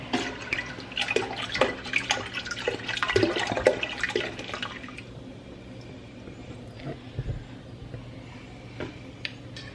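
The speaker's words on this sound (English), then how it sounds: "So what I'm gonna do is start pouring in the beer." Beer poured into a stovetop pot for a shrimp boil gives a steady splashing, gurgling pour for about five seconds, then fades to quieter trickles and drips in the pot.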